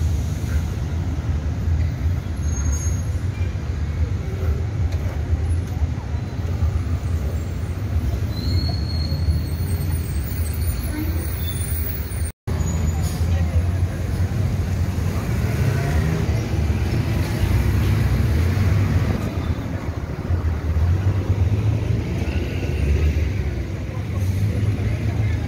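Busy Cancun city centre street traffic in the evening, with buses and other vehicles rumbling and rolling past continuously, close and loud, with a brief cut midway and people's voices mixed faintly into the noise.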